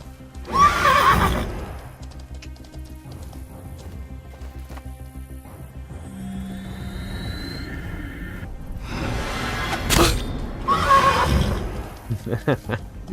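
Two loud, shrill horse whinnies several seconds apart, with clip-clop hoofbeats and game sound effects in between, from the video game Mortal Online.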